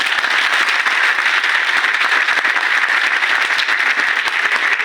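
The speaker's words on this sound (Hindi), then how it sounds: "तो एक बार मोदी केयर के लिए तालियां बजाएं।" A large seminar audience in an auditorium breaks into loud, sustained applause, a dense, even roar of many hands clapping close and steady throughout, with no talk over it.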